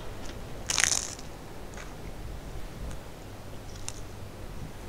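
Biting into a crunchy taco makes one sharp, close crunch early on, followed by a few fainter clicks and small crackles over a quiet room background.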